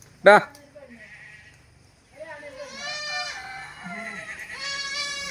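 A first-time mother goat with two kids about one and a half months old, a male and a female, bleats in a market for goats, cattle and buffalo. One sharp loud bleat is followed by a longer wavering bleat and further bleating over background noise.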